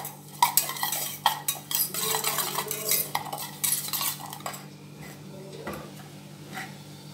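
Chopped onion, green chilli and salt mixed in a bowl, with repeated clinks and scrapes of a spoon against the dish in an irregular rhythm, close and clear, tapering off toward the end.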